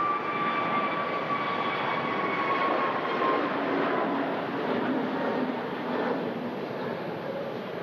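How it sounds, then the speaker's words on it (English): An Iberia Express Airbus A321neo departing Manchester Airport gives a steady broadband jet roar with a high tonal whine that fades partway through, heard at a distance and alone. "Iberia Express A321neo as well, heading back to Madrid"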